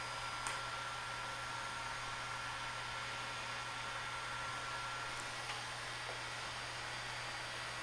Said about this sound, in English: Using a heat gun to warm up the surface, and then a paint scrape to basically scrape the paint off.